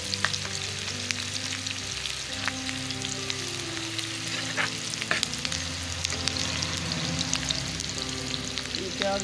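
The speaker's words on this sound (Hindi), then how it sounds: "प्याज फ्राई हो गया" Onions frying in a pan for chicken liver masala fry, a dense continuous sizzle with crackling pops and occasional stirring scrapes, close and steady, no voices.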